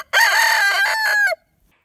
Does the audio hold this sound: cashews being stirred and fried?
no